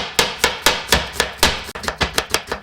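A knife slicing onions on a cutting board for a jerk pepper steak dish, about a dozen crisp, evenly spaced chops in a quick steady rhythm, close and clear with no talking.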